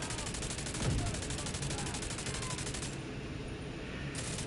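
Rapid automatic gunfire from a video game weapon fitted with tipping scales, a dense continuous run of shots that stays steady and fairly loud throughout, with a slightly heavier burst early on.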